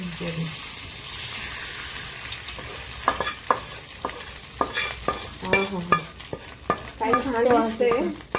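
Tempering is stirred into cooked rice with lemon juice for chitranna, with a soft sizzle under repeated spoon clinks and scrapes, and a voice talking over the later stirring.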